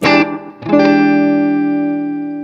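An electric guitar plays a distorted seventh sharp ninth chord: a quick stab, then a fuller strum left ringing and slowly fading.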